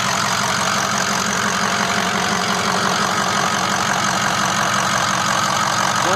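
A Ford F250 diesel engine idles in a steady, loud, close rumble with a rhythmic knocking clatter that holds constant throughout.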